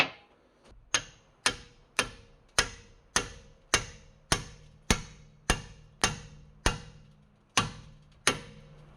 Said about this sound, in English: hit that with a hammer, pry it with a pry bar, and see if it pops off.